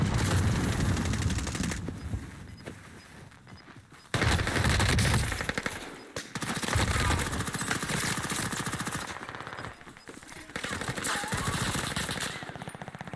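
Sustained automatic gunfire from a Warzone 2 firefight, dense rapid bursts nearly nonstop with brief pauses, loud and close, mixed with game ambience.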